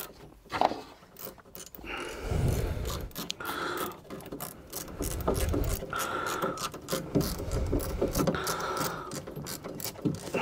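Ratchet wrench clicking steadily while loosening a bolt on the radiator fan of a Renault Twingo 1, the bolt set into plastic; a close, rapid pawl rattle runs in several sustained bursts with no talk.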